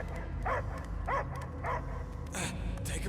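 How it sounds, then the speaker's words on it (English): A dog barks in short bursts inside a Marvel superhero video game scene, several yelping calls spaced about half a second apart over steady background game music. "I hear only barking."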